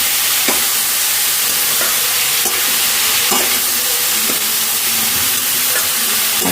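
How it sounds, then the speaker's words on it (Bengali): Chickpeas fry in a pan under a loud, steady sizzle and hiss, while a spoon stirs and knocks against the pan in intermittent taps and scrapes, close up with no speech. "এবার ছোলাটাকে ভালো করে কষিয়ে নেবো"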